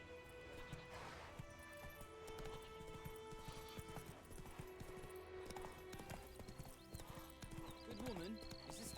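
A horse gallops continuously in The Witcher 3 video game, with rhythmic clip-clop hoofbeats and an occasional whinny layered over game music and ambience, all at low volume.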